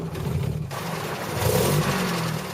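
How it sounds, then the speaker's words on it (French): A pre-war Citroën car engine runs steadily up close, with a low rumbling idle that swells briefly as it revs, then settles back. "Et voilà, le moteur est démarré."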